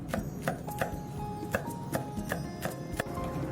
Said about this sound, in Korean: 쪽파 3개는 고명용으로 총총 썰어줍니다.